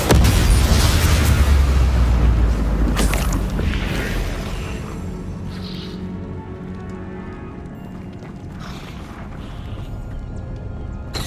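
Confringo spell blasts in Hogwarts Legacy on PS5 land as heavy, booming explosions, loudest at the start and then fading into a rumbling, crackling tail.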